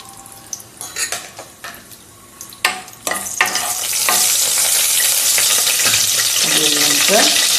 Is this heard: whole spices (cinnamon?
yes